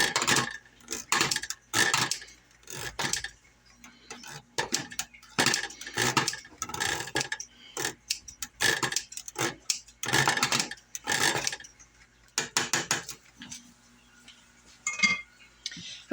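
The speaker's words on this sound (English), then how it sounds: "I'm just going to chop them up some more right in the can" Scissors snip repeatedly at canned tomatoes inside the metal can, a run of sharp metallic clinks and clicks in uneven bursts, close up, with short pauses between.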